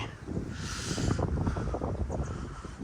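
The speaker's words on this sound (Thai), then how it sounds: "วันนี้ก็ลมแรงแรง" A strong wind blows outdoors in a garden of pine trees in Korea, making a steady, fairly loud rush with gusty buffeting against the microphone and no talk.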